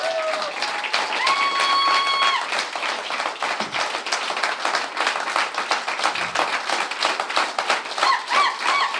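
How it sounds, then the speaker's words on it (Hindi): Enthusiastic audience applause at a herbal products company core training meeting, loud dense clapping sustained across the whole stretch, with a few whoops and cheers rising above it. "अपने आप को एक बार जोरदार तालियों के साथ अपने आप को बधाई दें"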